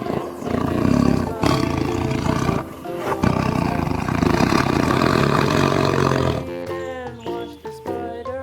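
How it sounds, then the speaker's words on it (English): A tiger gives a loud, deep, rasping roar that fills most of the clip and cuts off abruptly; a voice is briefly heard at the end. "Dangerous tiger."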